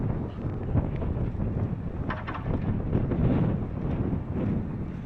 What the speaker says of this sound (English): Windy day like this